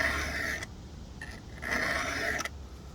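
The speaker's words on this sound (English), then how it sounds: "When you're filing, see the file's horizontal with the saw." A file rasps across the teeth of a chainsaw chain in two steady pull strokes, each a bright gritty scrape separated by a short pause, close and fairly quiet.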